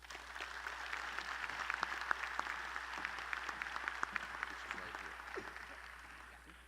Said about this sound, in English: Please join me in giving a warm round of applause to our College of Business graduate student speaker, Reina Tippett.